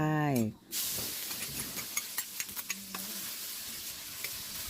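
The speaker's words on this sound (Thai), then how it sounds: "ตั้งกระทะให้ร้อนใส่พริกลงไป" Chilies dropped into a hot wok for Thai stir-fried basil pork, a soft steady sizzle and hiss after a brief clatter, with light scraping ticks and someone speaking over it.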